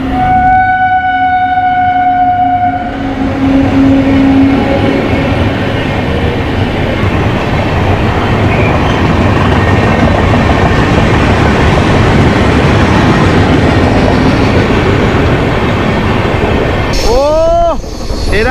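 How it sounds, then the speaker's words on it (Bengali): An Indian Railways express train, the Tatanagar–Ernakulam Express, rumbles past close by as a loud, continuous roar of wheels on rail that lasts the whole stretch, with a horn blaring at the start and squealing wheel screeches near the end. "এবার আসছে ট্রেন নাম্বার আঠেরো হাজার একশো উননব্বই টাটানগর এর্নাকুলাম এক্সপ্রেস"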